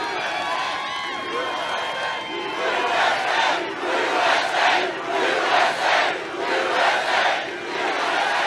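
A large crowd at a Trump rally in Ohio roars and chants in swelling waves, loud and dense, rising and falling in rhythmic bursts with voices shouting throughout.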